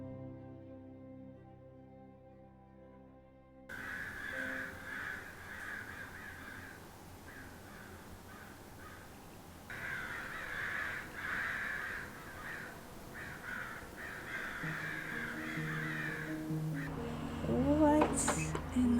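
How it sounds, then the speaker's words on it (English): A murder of crows caws repeatedly at close to middle distance, harsh calls overlapping in bursts over outdoor background noise, rising toward the end; a voice speaks briefly under the calls. "to see what's called a murder of crows in one of their most intimate and powerful moments"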